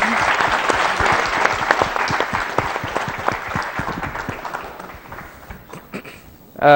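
Audience applause at an evening event greeting a red-haired woman, dense steady clapping from a crowd that thins and fades toward the end, with a brief louder burst at the close.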